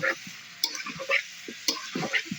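Spicy meat is stirred and cooked in a pan, with repeated scraping clinks of the spoon against the pan at an uneven rhythm over a faint sizzle, close by.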